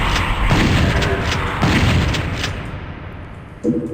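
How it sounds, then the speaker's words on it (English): Homing rockets exploding in the shooter game Doom 64 Retribution, a run of loud booming blasts with two heavy bursts early on, a rumbling tail, then a sharp thump near the end. "start dodging those homing rockets"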